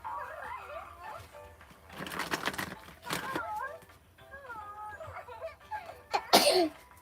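A sharp, breathy sneeze bursts out loudly near the end, after two earlier noisy bursts, with a person talking softly in between.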